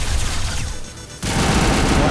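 Sci-fi gunfire from Mass Effect 2 combat crackles in dense, loud bursts, briefly easing before a renewed fusillade erupts.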